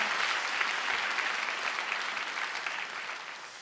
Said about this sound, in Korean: 중등부 친구들을 위해서 격려의 박수 보내주시면 너무 감사드리겠습니다